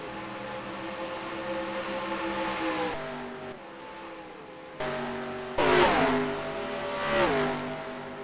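Racing engines from the Wreckfest video game, an Oldsmobile among them, drone steadily with strong harmonic tones, pitching down and then surging back up as they rev and accelerate. Moderately loud, with no talk.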